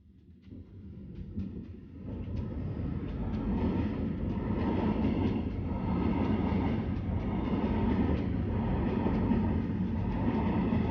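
A train passing close by in Taiwan, rising from quiet into a loud, sustained rumble and rattle of rail cars that holds steady for several seconds, with no talk over it.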